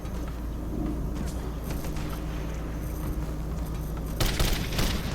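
Gunfire in the video game Code of Honor, with a steady bed of game noise and a couple of sharp loud bursts near the end.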